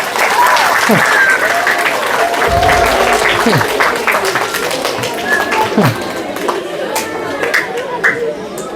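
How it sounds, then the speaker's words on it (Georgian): An audience at a children's Sunday school bursts into loud, dense applause that lasts throughout, with excited children's voices and chatter rising over the clapping. "დაუკარით ტაში"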